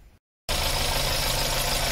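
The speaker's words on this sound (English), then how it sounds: "Let me go and start the motor." A car engine catches and settles into a steady idle after a brief silent pause, a loud, even, continuous rumble close by with no voices.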